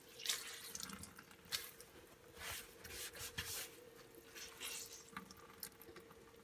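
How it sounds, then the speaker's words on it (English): Water runs and drips from a saturated towel pulled from behind an RV toilet, a close, uneven trickling and splashing with soft rubbing, no voices. "See all the water run out of the towel?"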